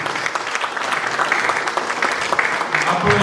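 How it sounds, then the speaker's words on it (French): A crowd at a political meeting in Paris claps throughout, a dense continuous patter of applause at moderate loudness with voices mixed in beneath it. "Applaudissez."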